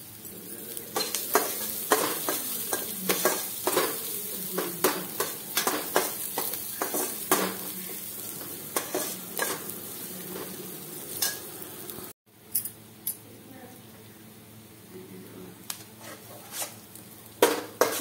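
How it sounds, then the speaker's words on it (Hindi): Onion and chopped green chili frying and being stirred in a pan, steady sizzle under repeated scraping stirs and clinks of the spatula against the pan, loud and close, with a brief break partway through. "देखिए प्याज भून चुका है।"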